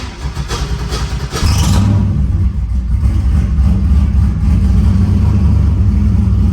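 A turbocharged LS engine in an S197 car cranks briefly, then catches and settles into a loud, steady, low idle close by.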